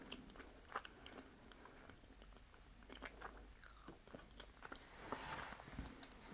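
Honeycomb with beeswax being chewed up close, giving soft, sticky, wet crunching and smacking bites that repeat irregularly over several seconds at a quiet level.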